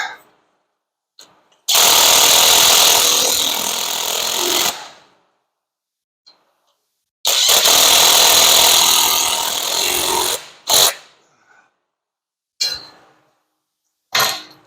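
Driveshaft bolts on a Ford Edge or Lincoln MKX AWD being snugged with a power tool, two loud sustained bursts of whirring about three seconds each, followed by short clicks and quick zips near and close.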